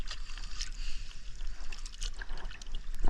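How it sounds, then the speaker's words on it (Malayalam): Small fish splash and flick at the surface of the water, making scattered light plops and trickles close by, irregular and fairly quiet, with no speech. "പൊടിമീൻ്റെ ബഹളം."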